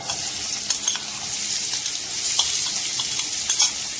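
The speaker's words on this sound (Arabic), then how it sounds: "هنحط البصل كده ونحمره" Onions sizzle and fry in a hot pan for liver and gizzards, a bright continuous crackling hiss with small pops and stirring scrapes, close and steady throughout with no talking.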